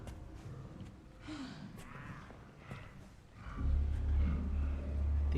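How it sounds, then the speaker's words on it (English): Heavy, rasping breaths from an enemy chef in the video game Resident Evil 9, a few dim breathy bursts over a steady low rumble that grows louder near the end, with no talk. "I hear some heavy breathing."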